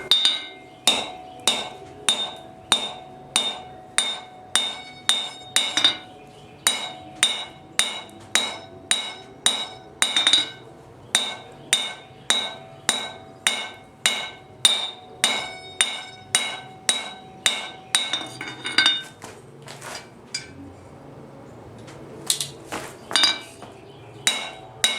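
Hammer blows drive a small metal wedge to secure a knife bolster plate during hot-fitting, a long run of sharp, ringing metallic strikes at a steady rhythm, close and loud, with a brief pause near the end before a few more hits.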